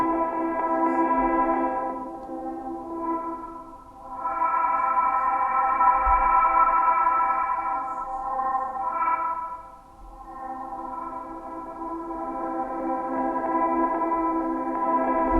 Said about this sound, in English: you can hear the effect of the shimmer control